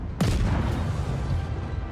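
Naval gunfire in World of Warships striking a ship: a sharp boom and impact early on, then a loud, dense rumble of battle noise that carries on to the end.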